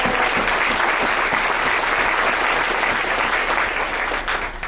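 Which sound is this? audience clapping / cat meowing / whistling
audience clapping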